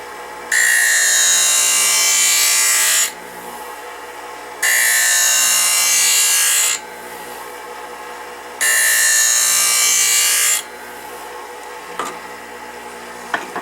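A Wissota 911 ice skate sharpener wheel grinds a stainless steel replaceable CCM skate blade in three loud, harsh, hissing passes of about two to three seconds each. Quieter motor hum fills the gaps between passes, and faint clicks come near the end.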